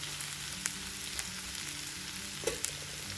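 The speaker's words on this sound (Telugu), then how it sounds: "ఇప్పుడు ఈ ముక్కల్ని బాగా వేగనివ్వాలి" Bitter gourd pieces frying in a pan with turmeric, giving a steady close sizzle with a few brief sharp crackles and no talk.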